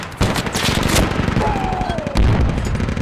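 Gunfire in the video game Squad during a battle at Hostomel: sharp rifle shots and bursts crack close and loud, with rapid repeated fire and echoing reports across the scene.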